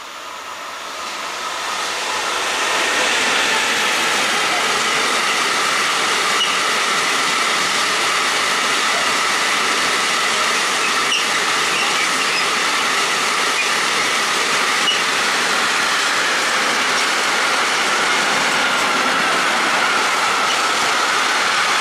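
A Siemens Vectron locomotive run by LTE passes close by in the evening. The roar rises over the first few seconds, then a loud, steady broadband rush of wheels and rail noise holds throughout, with no speech.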